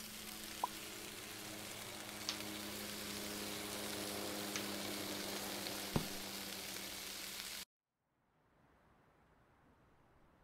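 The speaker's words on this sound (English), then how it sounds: "Stops making the frying noise." Food frying in a pan gives off a steady, dense sizzle with a few small pops for several seconds, then cuts off abruptly into near silence.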